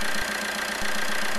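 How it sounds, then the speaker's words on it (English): A Fiat Doblo 1300 Multijet diesel engine idles with a steady, dense mechanical hum and faint regular low knocks, close and continuous, with no talking. "With the engine running"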